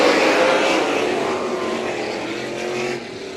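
UMSS sprint car engines roar together at full throttle as the green flag drops at St. Croix Valley Raceway, a loud, sustained, dense droning rumble that eases slightly near the end.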